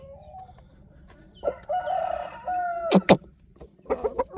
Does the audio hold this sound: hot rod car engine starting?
no